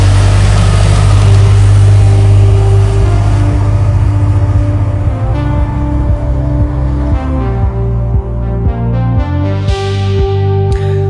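A DeLorean with a 3-speed automatic transmission accelerates hard from a standing start, its loud engine note climbing steadily, then pulsing through a gear change as the revs build again.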